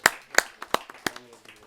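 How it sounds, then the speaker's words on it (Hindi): A few people clap at a Hindi poetry and comedy night as a poet is welcomed, sharp distinct claps in an uneven rhythm, close and fairly sparse, thinning out toward the end. "आइए जोरदार तालियों से इनका स्वागत करते हैं"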